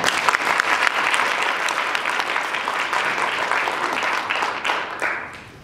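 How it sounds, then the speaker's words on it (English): Steady round of audience applause for speakers at a business forum, many hands clapping together for about five seconds before tapering off. "why don't we give them a quick round of applause for just that"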